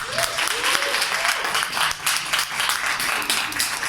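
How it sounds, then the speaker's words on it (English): Audience applause at an evening event, dense steady clapping throughout with voices mixed in underneath. "Please give them a round of applause."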